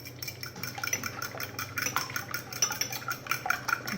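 Eggs and milk are mixed in a bowl, giving quiet, quick irregular clicks and scrapes of a utensil against the bowl with soft liquid sloshing, close and faint.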